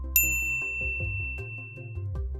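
A bright bell ding rings once, clear and close, its high metallic tone decaying slowly over a low tonal backing with soft rhythmic plucks, no voices.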